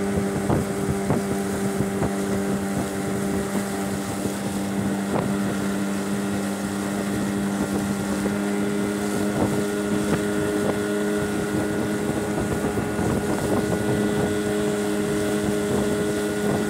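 A motorboat runs on the Paraná River at Porto Figueira, its engine a steady loud drone with a constant hum, while wind buffets the microphone and water slaps against the hull throughout.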